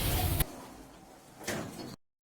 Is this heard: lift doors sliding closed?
yes